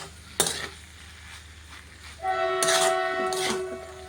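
Maggi noodles with masala are stirred in a pan, giving short scraping clatters of utensil on metal against a low hum, with a sustained tonal note joining partway through.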